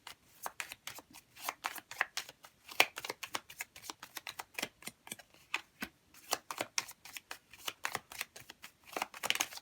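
Tarot cards being shuffled by hand, a quick run of crisp riffling flutters and taps in irregular bursts, close and quiet with no talking.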